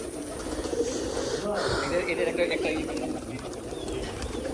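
Pigeons at a pigeon farm coo in a dense, continuous chorus of low, throaty calls, with voices talking over the flock.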